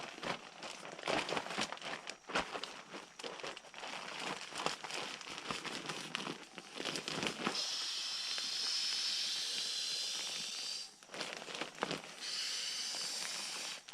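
A camping sleeping pad being inflated through its one-way valve with a pump bag, giving a steady rushing hiss of air that runs nearly continuously at close range, broken by a few crinkling handling noises.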